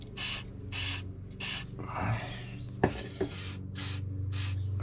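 WD-40 lubricant is sprayed onto a stuck bolt in short, close bursts, about six hissing sprays separated by brief pauses, with some metallic handling clicks in between.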